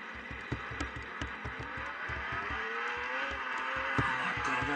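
A Lamborghini engine in a video game revs and drones steadily with rising pitch and rhythmic low thumps, loud and close, without any talking.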